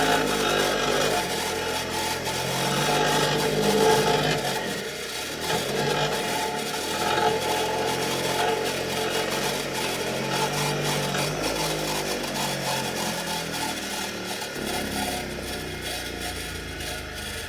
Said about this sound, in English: We can throw them on the wire wheel real quick.